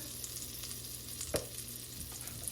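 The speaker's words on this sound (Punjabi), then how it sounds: "ਬਟਰ ਦੇ ਵਿੱਚ ਪਾਵਾਂਗੇ ਆਪਾਂ ਥੋੜਾ ਜਿਹਾ ਜੀਰਾ ਲਓ ਜੀ ਇੱਕ ਚਮਚਾ ਪਾਵਾਂਗੇ ਆਪਾਂ ਜੀਰੇ ਦਾ ਥੋੜੀ ਜਿਹੀ ਪਾ ਦਵਾਂਗੇ ਆਪਾਂ ਹਿੰਗ" Cumin seeds and asafoetida crackle in melted butter in a pan, a faint, close, even sizzle with a single sharper pop midway and no talk.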